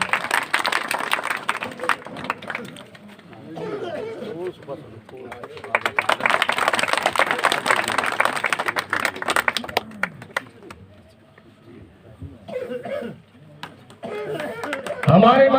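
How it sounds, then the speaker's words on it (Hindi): Applause and clapping from a crowd at an Indian political rally, in bursts of several seconds that rise and fall between stretches of announcer talk through a loudspeaker. "जोरदार तालियों के साथ"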